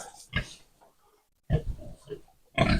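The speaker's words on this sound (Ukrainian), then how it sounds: "Ці гімалайські свині" Himalayan pigs grunt in short, rough bursts close by, a few separate snorting grunts with quiet gaps between them.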